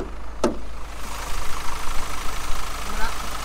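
Kia Stinger engine idling with the hood open, a steady low hum with a brief clack at the start, heard under someone talking nearby.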